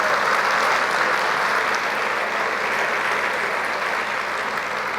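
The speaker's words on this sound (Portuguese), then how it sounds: "Você pode aplaudir o Senhor" Loud, continuous applause from a church congregation during a worship service, dense clapping filling the space evenly from start to finish.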